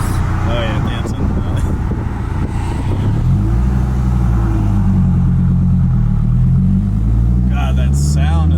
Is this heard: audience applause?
no